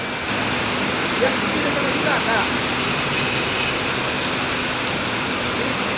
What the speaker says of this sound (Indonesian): Ini cuaca masih hujan di loket Puragelan PT Rapi Palembang.